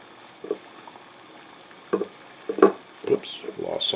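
Fresh plum blossoms are pushed down into a glass quart jar, giving soft, scattered rustles and light taps that grow busier toward the end against a quiet room.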